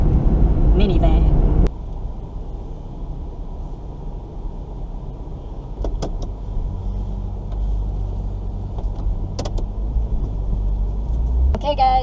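A 2001 Toyota Sienna minivan on the road, heard from inside the cabin as a steady low engine and road drone with faint tire hiss, a louder stretch at the start and occasional small clicks.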